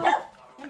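A dog lets out one brief bark or yip, loud and close, trailing into a quieter fragment that follows.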